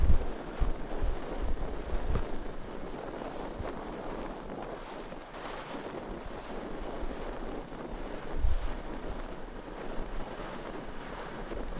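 A small boat carries a passenger back to an anchorage in Indonesia. A steady engine and water rush sits under gusty wind buffeting the microphone, with a few louder thumps from the hull.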